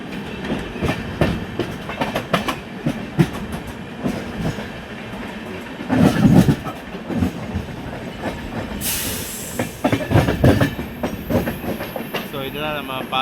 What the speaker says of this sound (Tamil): மெயின் லைன் டிபார்ச்சர் செம்ம ஃபாஸ்ட்டாக டிபார்ச்சர் ஆகுது மெயின் லைனில்